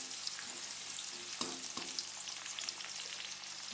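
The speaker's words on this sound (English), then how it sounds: "First add the pounded garlic." Pounded garlic frying in a hot pan, giving a steady, bright sizzle throughout, broken by a couple of brief stirring knocks, with no talking.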